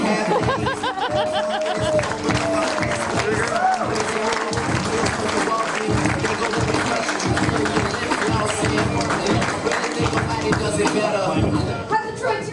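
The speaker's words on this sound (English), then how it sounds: "Give a big warm round of applause for Remaster!" Dense, sustained applause from an improv festival audience in Detroit, with cheering, whoops and scattered laughter mixed into steady clapping that fills the whole stretch.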